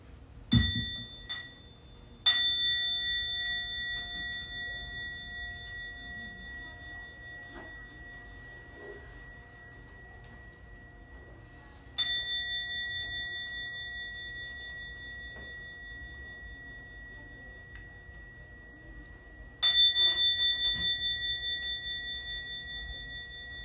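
A Buddhist temple bell is struck three times, far apart, each strike ringing out clearly and then fading slowly into a long shimmering decay.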